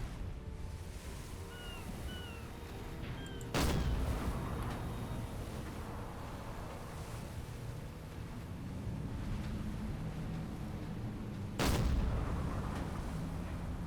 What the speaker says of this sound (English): They're just returning small arm fire.